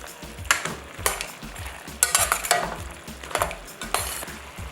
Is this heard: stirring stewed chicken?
yes